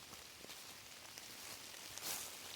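Rain falls in the woods as a faint, steady patter on leaves and ground, soft and diffuse with no talking.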